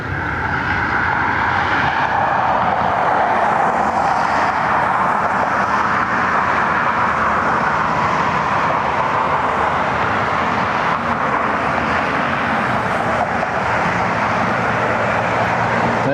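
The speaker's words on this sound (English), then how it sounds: "Our first United flight to Newark is taxiing out, the Airbus A319." A United Airbus A319 taxiing out at Cleveland Hopkins airport, with a loud, steady jet engine roar and rumble that holds throughout and shifts slowly in tone, with no talk.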